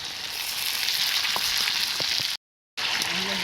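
An egg fries in a spiced potato and pointed-gourd curry, with a loud continuous sizzle, a few soft utensil taps, a brief gap of silence, then the hiss resuming.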